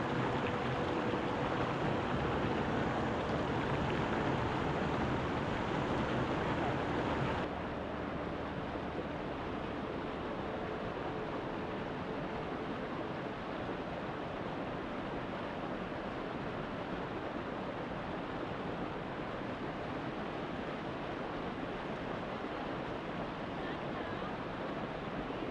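A river flows near Bir Khasi. It gives off a steady, low broadband rush that stays fairly faint and even, and it drops slightly in brightness after the first few seconds.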